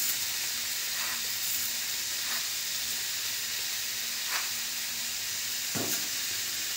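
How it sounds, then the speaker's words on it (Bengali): Grated carrots fry in ghee with sugar for carrot halwa, giving a steady, fairly loud sizzling hiss broken by a few short stirring scrapes and one sharper clatter near the end. "গাজরটা আমরা 3-4 মিনিট ভেজে নিলাম, ঘিয়ের সঙ্গে ভালো করে মিশিয়ে নিলাম।"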